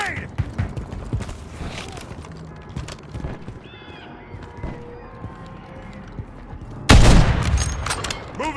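A grenade blast and gunfire ring out in the Call of Duty Modern Warfare 3 video game, with scattered thuds and clatter building to one loud, sudden explosion late on, followed by a brief tail.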